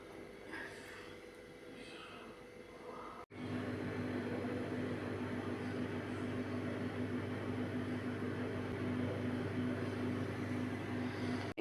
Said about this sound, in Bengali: মাইক্রোওভেনের মধ্যে দিয়ে দিচ্ছি, এটা যাতে ঠিকঠাক সেদ্ধ হয়ে যায়।